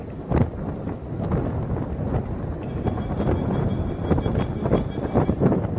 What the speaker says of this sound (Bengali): ব্রিজের উপরে চারিপাশ দিয়ে হাওয়া আসছে